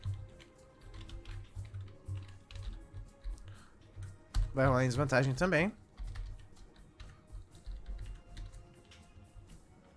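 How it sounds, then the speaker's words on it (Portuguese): Keys clicking on a computer keyboard during a Naruto tabletop RPG session, light scattered taps under near-continuous talk, with one brief loud vocal outburst midway. "Oxe, por que meu teclado não tá funcionando direito?"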